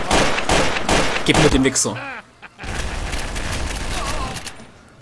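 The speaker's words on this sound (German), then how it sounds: "Mit der Pistole konnte ich ihn immerhin noch auf Rot runterschießen." Pistol gunfire in the shooter game Trouble in Terrorist Town cracks out in a rapid burst of close shots mixed with someone talking, then gives way to a noisy stretch of game sound.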